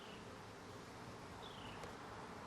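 Honeybees buzzing on a hive frame outdoors, a steady faint hum with a few individual bees passing close.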